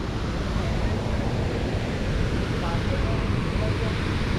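Athirapally waterfall in Kerala pours steadily in a broad, continuous roar of rushing water, loud and unbroken throughout, with a voice faintly present beneath the noise.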